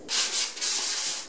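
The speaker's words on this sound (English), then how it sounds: "So that's what the sandpaper's for." Sandpaper is rubbed by hand over a wooden wall shelf in a woodshop, giving a close, dry rasp in about four quick back-and-forth strokes of even rhythm.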